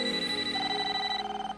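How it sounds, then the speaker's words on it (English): In an animated series, a toaster rings like a telephone with a bright electronic bell tone that shifts pitch partway through and then stops after about a second and a half. "Your toaster's ringing."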